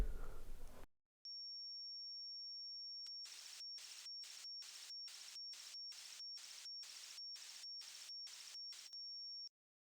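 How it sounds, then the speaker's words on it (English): Digital audio data stream sent to a KORG Volca Sample, a loud modem-like screech of about a dozen evenly spaced rapid bursts over a steady high whine, following a short noise at the start, with no talk. "It sounds like a dial-up modem."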